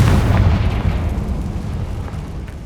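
A spell explosion in Hogwarts Legacy bursts in a loud deep boom at the start, then a rumbling tail fades over a couple of seconds.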